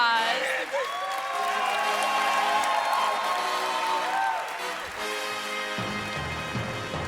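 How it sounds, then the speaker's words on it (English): Applause and cheering from a convention crowd for a cosplay contest winner at MagicCon Amsterdam, sustained and dense throughout, with music or tonal sounds layered over it. "Let's have a huge round of applause."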